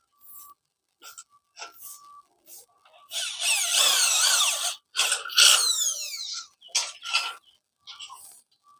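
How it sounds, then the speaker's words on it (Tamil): A power drill bores holes in polycarbonate cladding sheet, running in short bursts with a longer whining run in the middle, close and fairly loud with brief pauses between. "இந்த மாதிரி எங்களுக்கு எங்கெங்கே தேவையோ அங்கே ஹோல்ஸ் முன்னாடியே இப்படி போட்டுக்கணும்."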